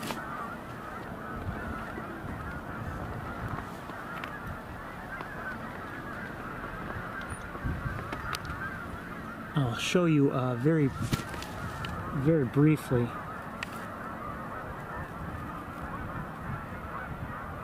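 Geese flying overhead give a few honking calls, fairly distant, in two short bursts partway through, over steady outdoor background noise, with someone speaking briefly.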